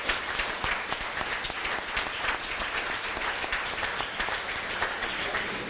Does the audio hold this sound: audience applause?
yes